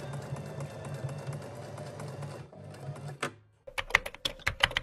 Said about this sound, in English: we're just going to repeat and hem the other leg